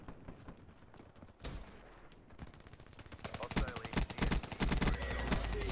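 Video game gunfire: bursts of rapid shots build into sustained, loud automatic fire, with a voice talking over the early part.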